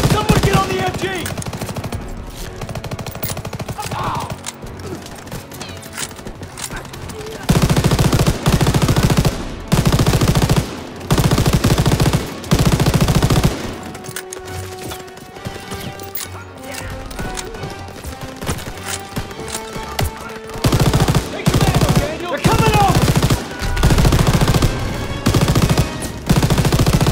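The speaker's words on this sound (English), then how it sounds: "Open fire! Someone get on the MG!" Machine gun fire in a realistic war video game battle on a beachfront, loud sustained bursts alternating with short pauses, layered over a dense rumble of combat, music and distant explosions.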